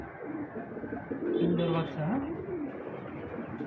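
Exhibition homer pigeons at a pigeon farm in Narsingdi, Bangladesh give a short, close, soft coo, with brief talk over it.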